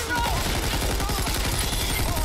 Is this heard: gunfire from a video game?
yes